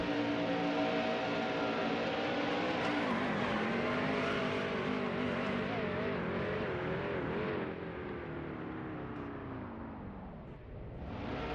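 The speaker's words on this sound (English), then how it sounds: "Violent impact, as you would expect with a catch fence crash." A stock car crashes into the catch fence at Talladega in NASCAR Heat Evolution, heard from onboard: a loud, steady roar of engine and scraping that dips slightly toward the end.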